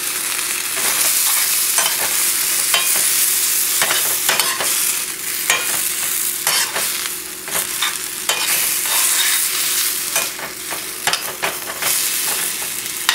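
Mushrooms sizzle steadily in a hot pan with wine and parsley, a dense frying hiss broken by frequent clicks and scrapes of stirring, loud and close with no talking.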